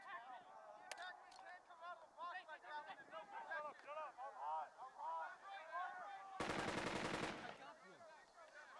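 Machine gun fire in the war game Burden of Command rattles in dense bursts throughout, with a louder, sustained close burst near the end; voices speak faintly underneath.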